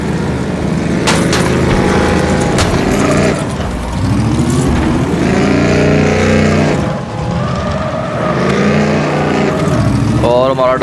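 Batmobile engine from the LEGO Batman video game, droning steadily and revving in low gear throughout, loud and up close, with people talking over it.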